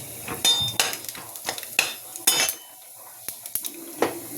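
Whole cumin, garam masala and bay leaf tempering for mung dal in a pan, heard as a clatter of utensil scrapes and metal knocks with a light sizzle, irregular and close, with quiet gaps between strokes.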